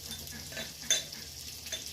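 Potato and pointed gourd frying in a pan give a steady, soft sizzle, with a brief sharper scrape of stirring near the middle and no talking.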